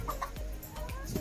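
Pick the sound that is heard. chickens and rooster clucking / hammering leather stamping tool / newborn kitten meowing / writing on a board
chickens and rooster clucking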